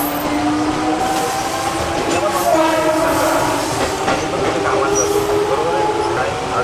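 A Mumbai suburban local train runs steadily past Dadar Central, a loud continuous rumble with rhythmic wheel clatter and rail squeal throughout, with a voice talking over it.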